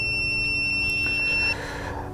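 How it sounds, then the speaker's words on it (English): A Holystone HS900 Pro drone's remote controller beeps in return-to-home mode, giving steady high-pitched tones close by over faint background hum before they cut off. "There's an option in here to have this beep as it comes back."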